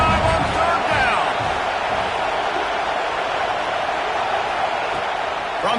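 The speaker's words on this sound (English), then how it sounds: "The Buckeye crowd alive on 3rd down." Ohio State Buckeyes football stadium crowd roaring on third down, a dense, loud, sustained wash of cheering from a huge crowd with no break across the whole stretch.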